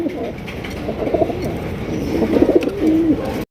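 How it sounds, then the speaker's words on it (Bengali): A Modena pigeon coos softly several times in a low, rolling rhythm, with faint background noise throughout. "আর দেখতেই পাচ্ছেন চমৎকার যে আপনার মডানা কবুতর"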